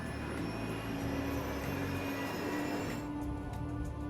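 Steady, loud roar and whine of the jet engines of a Qantas Airbus A380 at takeoff, heard continuously from inside, with no talk.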